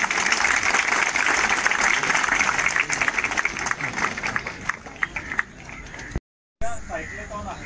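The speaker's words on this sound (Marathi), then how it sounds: "जोरदार टाळ्या वाजवा जरा सगळ्यांना" A gathered crowd at a civic cleanliness and sea-safety campaign event in Navi Mumbai claps loudly and continuously, the applause tapering off before a short cut and scattered voices afterward.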